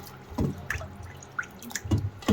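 Water runs and drips off curry ingredients as they are rinsed, coming in a few soft splashy bursts over a quiet background, with no talking.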